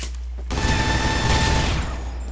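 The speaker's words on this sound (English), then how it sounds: "My Gatling gun, basically I use it in my close quarters loadout" Gatling gun in a video game firing a continuous, rapid burst, a dense loud rattle of shots lasting under two seconds before cutting off, with no talk over it.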